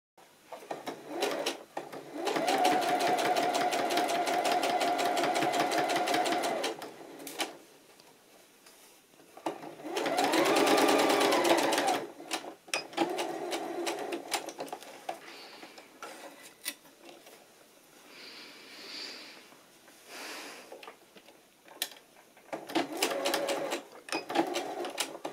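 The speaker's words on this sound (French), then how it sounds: "On allonge notre point à 3-4 mm et on va venir coudre à 5 mm du bord." Sewing machine stitching a trouser seam with a lengthened 3–4 mm stitch about 5 mm from the edge: two loud sustained runs of steady mechanical whirring, separated by quieter handling noises and small clicks, with no talking.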